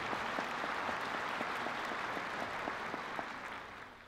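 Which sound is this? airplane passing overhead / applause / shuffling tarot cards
applause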